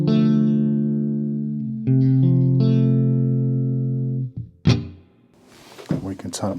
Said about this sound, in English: Just going to switch off the motors and the echo so we just get that spring reverb.